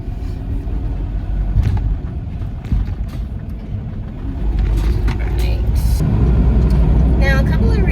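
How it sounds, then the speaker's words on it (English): Camper van engine rumbling steadily as it drives around a busy roundabout, with road noise swelling louder in the second half and brief higher hisses and squeals near the end; no one talks. "Now I'm about to drive around one of the craziest roundabouts"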